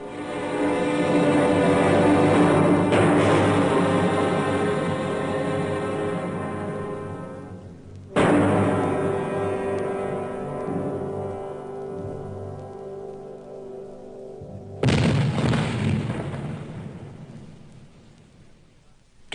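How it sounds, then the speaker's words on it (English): Three heavy booming cannon shots from the Chateau d'If fortress prison, each a sudden broad blast followed by a long rumbling decay. The reports come several seconds apart, loud and alone with no voices. "That was the cannon on the Chateau d'If."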